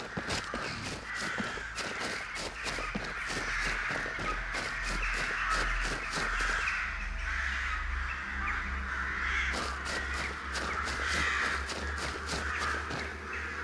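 Crows cawing repeatedly in a Skyrim game world, a dense series of harsh calls at moderate distance, overlapping in bursts alongside crunching footsteps.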